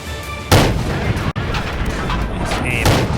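An M7 Medium tank cannon fires shells in a video game match, two loud booming shots about two seconds apart over a rumbling battlefield bed with sharp cracks between them.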